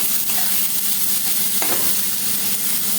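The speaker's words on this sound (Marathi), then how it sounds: "आणि छान असा सोनेरी फ्राय करायचा आहे, खूप जास्त पण फ्राय नाही करायचं" Onions frying in hot oil for kanda poha, a steady close sizzle with a brief stir partway through, no voices.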